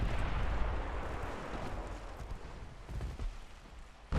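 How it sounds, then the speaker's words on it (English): Eight-inch naval guns firing in the Ultimate Admiral Dreadnoughts warship game, heavy booming rumbles and scattered distant thuds rolling under a constant low din, with a sharper loud blast at the very end. "Our 8-inch guns are going to be starting to shoot nothing but AP from here on out."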